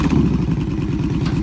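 A 2010 Yamaha Stratoliner DLX with a 1900cc V-Twin engine and loud straight pipes, running close by with a deep, steady, throbbing exhaust rumble.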